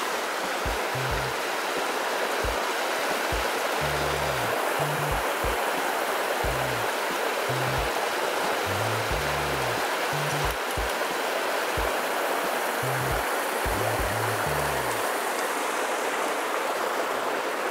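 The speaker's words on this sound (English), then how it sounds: "Have some waterfall action right now." A waterfall roars as a constant rushing wash of water, with low rhythmic thumps pulsing underneath at intervals.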